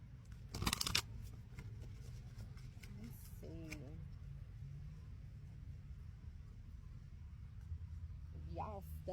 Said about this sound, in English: I can't even shuffle this deck.